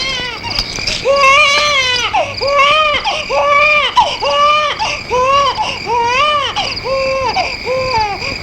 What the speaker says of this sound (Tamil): என்ன இது குழந்தை அழுகிற சத்தம்?